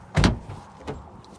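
Power sunroof on a 2013 Toyota RAV4 Limited giving a brief close motorized whir, with a stronger burst early on and a second, softer movement about half a second later, no talking.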